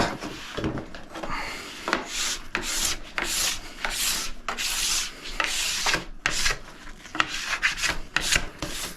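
Scraping strokes against a ski base during tuning, removing leftover metal in a rough pre-scrape, heard as a quick series of close, rasping passes with short pauses between them, alone without talk.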